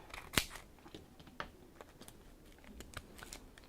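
Scissors cutting a small foam pad for a craft project, one sharp snip followed by several lighter, scattered cuts and rustles up close, with no one talking.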